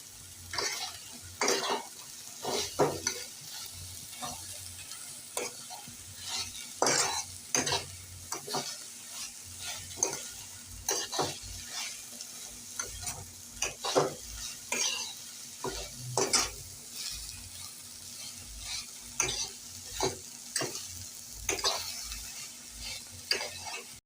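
Vegetables with added cabbage are stir-fried in a pan, a steady low sizzle broken by frequent scraping and clinking of a spoon against the metal, irregular and close, with no voices.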